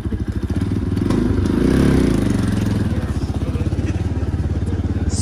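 A motorcycle engine idles loudly nearby with a rapid, even putter, swelling slightly as it revs before settling back to a steady chug.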